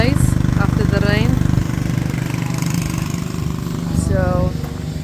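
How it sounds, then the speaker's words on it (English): A power sander works across a wooden deck, droning as a steady, loud motorized hum with a tonal buzz. Brief chirping, whistle-like sounds rise over it near the start and again near the end. "and David is sanding down the deck"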